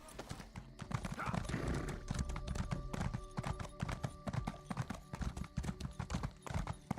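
Horse hooves clip-clop steadily in a video game, a fast, close and loud galloping rhythm that runs throughout, with a brief whinny early on and faint voices underneath.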